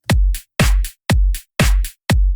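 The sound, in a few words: drum loop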